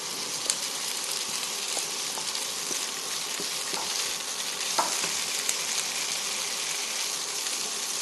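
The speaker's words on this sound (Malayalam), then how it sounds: "ഈ സമയത്ത് നമുക്ക് ഉരുളക്കിഴങ്ങും കൂടെ ചേർത്ത് കൊടുക്കാം" Potato pieces go into softened onions frying in a pan for Kerala-style potato mezhukkupuratti: a steady, close sizzle of hot oil with a few light scrapes and clinks of stirring, no voices.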